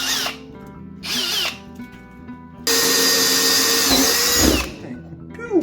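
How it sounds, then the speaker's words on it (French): A hole saw bores during house renovation work, its power drill whining in short bursts before a long, loud sustained cut that then winds down, with a few quiet voices around it. "Une scie cloche."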